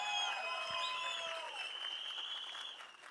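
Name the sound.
audience applause at trailer launch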